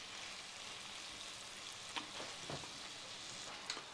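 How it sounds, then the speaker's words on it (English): Hamburger meat browns in a pan with a soft, steady, fairly quiet sizzle and a few brief clicks of stirring. "the hamburger meat is about halfway browned"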